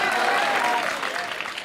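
An audience at a Hindi comedy poetry gathering bursts into brief, loud applause, a dense wash of clapping that fades slightly toward the end.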